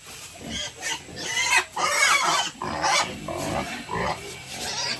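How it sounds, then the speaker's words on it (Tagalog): Noisy farm animals nearby, including goats: overlapping bleats, grunts and clucking calls in irregular bursts, loud and close. "Yung kambing din maingay na."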